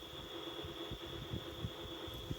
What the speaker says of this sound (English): That noise you hear in the background, that is a fan running